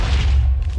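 A crystal explodes in a video game, a loud, deep, rumbling boom that fills the whole moment and rolls on without a break.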